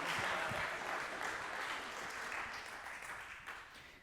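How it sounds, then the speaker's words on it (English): Applause from an audience for volunteers at an outreach event, a steady broadband clatter of clapping that fades slightly toward the end, with no talk over it. "Round of applause for our volunteers"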